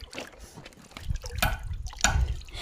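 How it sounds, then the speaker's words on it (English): Water splashing and dripping as a dog is rinsed during an outdoor bath, irregular pours and drips close by, with faint voices in the background. "Rinse him here."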